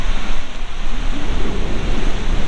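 Waves breaking and washing up on the beach at Bognor Regis, a loud, close, continuous surf roar with some wind buffeting the microphone and no voices.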